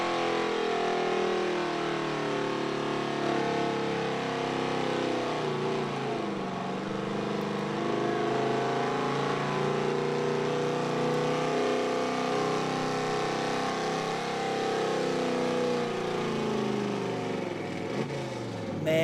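A Ford pickup truck with aggressive Nitto Mud Grappler front tires pulls a sled at a truck and tractor pull, its engine holding a loud, steady drone for the whole run with no clear revving bursts.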